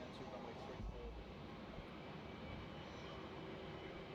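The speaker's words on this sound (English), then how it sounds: "Get a close-up of QF95 taxiing out to runway 34." Qantas QF95 jet airliner taxiing out to runway 34 at Melbourne Airport at night, heard as a steady, even engine rumble at moderate distance throughout.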